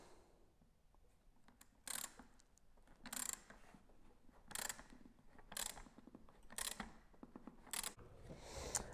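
A ratchet wrench loosening a 10 mm bolt on a Tesla Model S door handle, giving about seven quiet, close, evenly spaced bursts of ratcheting clicks with no talking.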